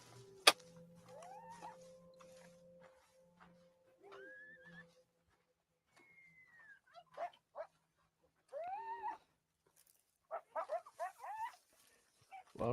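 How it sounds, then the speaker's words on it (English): Dogs barking, yelping and whimpering in a video game, several short cries and whines spread across the stretch with quiet gaps, faint and fairly distant over a low background hum. "Wild dogs?"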